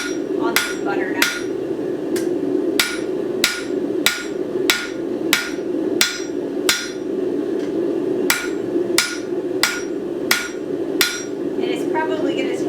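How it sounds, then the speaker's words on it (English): Hammer blows on a butter knife handle being tapered on a cold anvil, about twenty sharp metallic strikes in a steady rhythm over a constant low hum from the forge, close and loud. "we are going to be tapering the handle on this butter knife."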